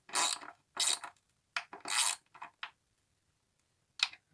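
Bursts of ratcheting and scraping come from tightening the fastening on a homemade skateboard, in several short sharp clusters separated by quiet gaps.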